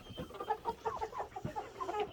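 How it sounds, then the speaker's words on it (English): Black Australorp and lavender Orpington hens cluck close by in a steady run of short, overlapping calls, with no talk over them. "That's a black Australorp. That's a lavender Orpington."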